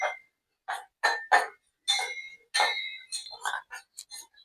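A spoon stirs melting jaggery in a pan for makhana ladoo, giving a series of light, close clinks and taps in short irregular bursts with quiet gaps between.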